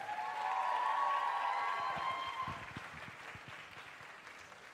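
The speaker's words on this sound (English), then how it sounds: "Can we please get another round of applause for our first 4 teams of the night?" Audience at a championship show applauding the first four competing teams of the night, a broad wash of clapping and faint cheers that loudens early, then thins out.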